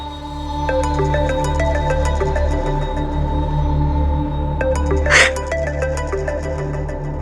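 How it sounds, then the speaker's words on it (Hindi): A phone ringtone plays a repeating electronic melody in a steady pattern, with a short burst of noise near the end over a low hum. "फोन उठाओ"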